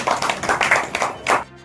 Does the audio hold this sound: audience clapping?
yes